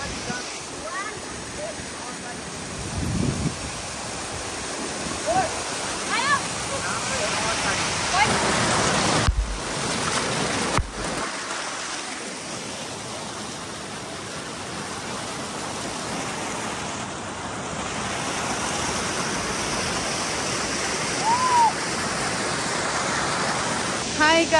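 Tindhara waterfall rushing as a steady, broad roar that fills the whole stretch, close and continuous, with a few brief voices and bird-like chirps faint beneath it.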